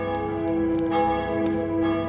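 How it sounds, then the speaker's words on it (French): A church bell rings in a steady, resonant tone close by, its strokes blending into a continuous sustained hum with no voices. "la cloche de l'église sonna 5 fois"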